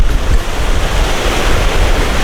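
Strong wind and heavy surf at Jomtien beach, a loud continuous roar of crashing waves mixed with buffeting wind noise on the microphone, no voices.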